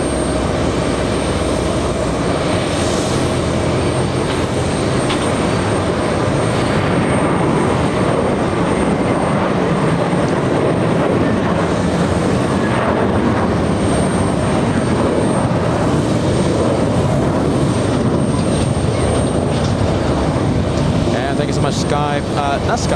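A JetBlue Airbus A320 jet airliner departs JFK airport, its engines a steady, broad roar held for the whole stretch, with people talking over it.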